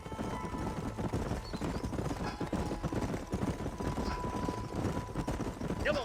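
Horse hooves clip-clop steadily across the whole stretch in a Western setting in the video game Red Dead Redemption, a rhythmic trotting patter with a faint whinny and ambient background, no speech heard.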